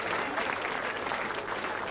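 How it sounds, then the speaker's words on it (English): An audience claps steadily at King's Bruton school's 500th anniversary, in a dense, even wash of applause that carries through the whole moment without a pause. "Give them a round of applause."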